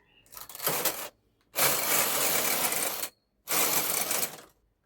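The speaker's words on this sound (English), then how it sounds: "Then I'm going to knit one row while my punch card is on hold." A domestic knitting machine knits a single row with the punch card held, its carriage making three loud, steady whirring rasps separated by short silences, with no talking.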